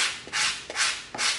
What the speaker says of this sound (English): A little bit 80 grit sanding paper.